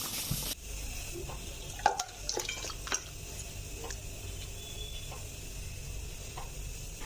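Cooked gojar fish curry is tipped from the pan into a bowl, a faint wet slide with a few spoon scrapes and metallic clinks of cookware over low background hiss.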